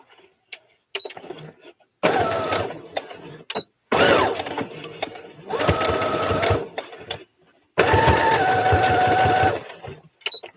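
Sewing machine stitching fabric strips for bias binding, running in several loud bursts of steady whirring separated by short pauses, with small clicks and handling noises between runs.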